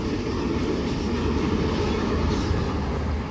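An Oscar H-set electric passenger train runs through a platform without stopping, a steady close rumble and hiss of wheels and motors that holds at an even loudness.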